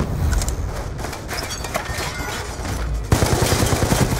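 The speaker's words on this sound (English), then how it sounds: "Alright, I'm shooting it." Rapid gunfire from the video game Black Ops 2, a dense burst of shots running throughout and growing louder and harsher near the end, with no talk over it.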